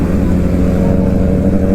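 A Kawasaki Ninja ZX10R inline-four superbike riding on the road, a loud, steady, deep engine drone held close for the whole stretch.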